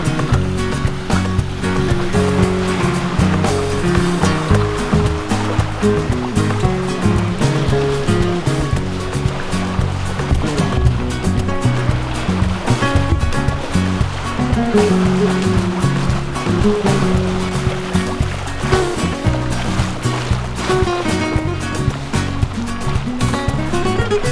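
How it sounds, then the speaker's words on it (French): Continuous loud rush of water churning past a moving boat, with a steady engine drone and spray filling the whole stretch without pause. "doucement, sans bruit, le bateau fait son sillage sur la route du retour."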